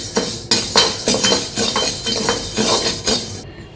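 Rice dry-roasting in a pan while being stirred, loud close scraping strokes of a spoon against metal repeating in a quick, fairly regular rhythm.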